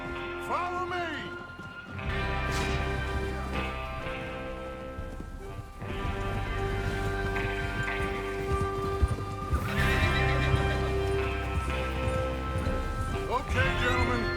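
Horses neigh and whinny with clip-clopping hooves in the Red Dead Redemption 2 video game, set against a dense backdrop of game music and sound, with loud, continuous hoofbeats and several whinnies breaking through.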